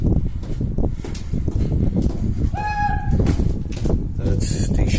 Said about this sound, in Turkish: Evet, değişik kuş sesleri.